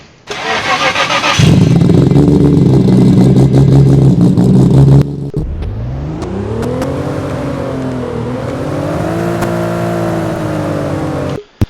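A Nissan car engine in the video game Driving Empire cranks and roars to life, then revs up and down repeatedly in smooth rising and falling pitches, loud and close, with no talking.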